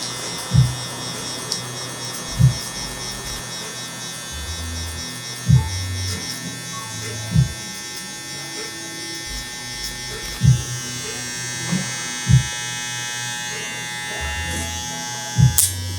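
Hair clippers run steadily with the lever open while blending a fade at a barbershop, giving a continuous electric buzz with periodic soft taps and bumps as the blade passes over the head; no talking.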